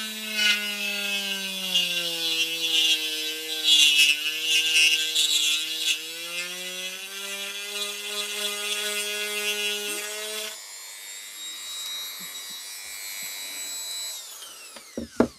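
A small power drill enlarges a hole in a carp-fishing kit part, its motor whining steadily and close for about ten seconds, shifting pitch slightly under load, then giving way to quieter scraping and a few sharp clicks.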